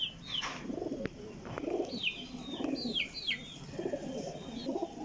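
Golden pigeons cooing in soft repeated rolling calls alongside brief high chirps, fairly close and quiet, with no talking.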